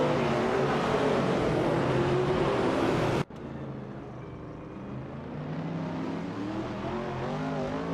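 A 1970 Chevrolet Camaro racing in a video game, engine roaring loud and steady, then abruptly cutting to a quieter, lower drone that slowly builds again as the car keeps pace.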